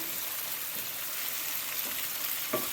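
Lamb frying in a hot pan with tomato paste, garlic and onion, a steady close sizzle with a brief clatter and flare near the end as the meat is turned over.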